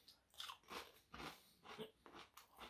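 Pringles tortilla nacho cheese chips bitten and chewed up close, a run of repeated soft crunches in an uneven chewing rhythm, no talking.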